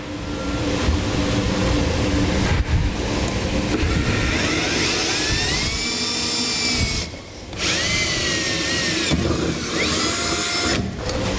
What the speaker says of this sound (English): So I'm going to start by drilling a pilot hole.